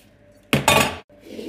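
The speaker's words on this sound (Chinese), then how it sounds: "我就用这个花椒粒去做一个演习啊" Sichuan peppercorns tossed in a seasoned iron wok as a flipping demonstration, one loud, close burst of rattling, clinking grains against metal lasting about half a second before a quiet pause.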